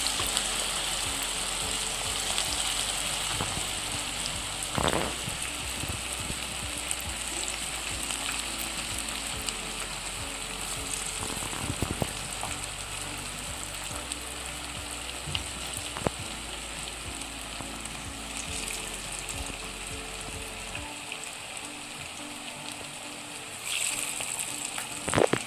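Cauliflower pieces for gobi 65 dropped into very hot oil on a high flame, giving a steady, soft, even sizzle with a few faint clicks and clatters.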